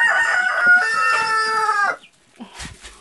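A rooster crows loudly and close by on a farm for about two seconds, followed after a brief gap by softer chicken clucking and scratching noises.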